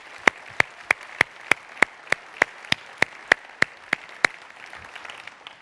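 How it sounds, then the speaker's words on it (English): Applause at the closing of a leadership symposium, heard as roughly fourteen sharp single claps in a steady, evenly spaced rhythm, crisp and fairly close, fading into quiet room tone at the end. "Let's have another round of applause for Tim Hebert and for Dominique as well."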